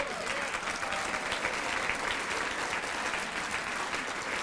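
At an award dinner honoring a journalist, a banquet-hall audience gives a sustained, even round of applause, a steady wash of many hands clapping at moderate distance with no pauses.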